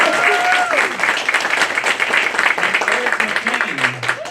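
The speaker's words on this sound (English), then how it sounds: "let's give a big round of applause to Herbie" A crowd at a reunion gala in Burbank applauds and cheers for Herbie with full, lively clapping, and voices and whoops come through over the applause.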